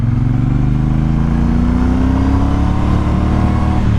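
A Triumph Speedmaster cruiser motorcycle pulling hard while being ridden, its engine note loud and close, rising steadily in pitch as it accelerates in second gear.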